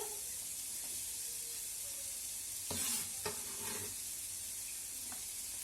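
Onion, garlic and carrot sizzle steadily as they fry in a pan, with a brief louder clatter and crackle as ingredients are stirred or tossed in partway through; no one speaks.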